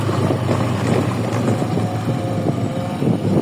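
A motorcycle engine runs at a steady idle on a village ride after the bike was flooded, a constant low droning hum with slight rough pulsing and no speech.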